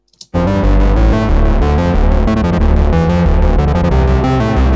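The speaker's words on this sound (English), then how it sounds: "And I'll play that same section with the distortion in." A Moog synthesizer plays a loud, dense section through a distortion effect, starting abruptly after a brief click and sustaining thick, heavy tones with shifting notes throughout, with no talking.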